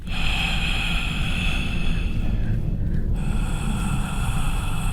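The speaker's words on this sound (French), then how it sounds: "vous commencerez à entendre des bruits inquiétants, des voix, des respirations fortes" Heavy, loud breathing and unsettling noises from a video game, harsh rhythmic breaths over a constant low rumble and eerie high tones, with no talking.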